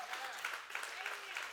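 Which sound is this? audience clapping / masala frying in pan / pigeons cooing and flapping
audience clapping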